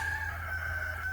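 A rooster crows in a single drawn-out call on a chicken farm, sounding steady and moderately near over a low background hum.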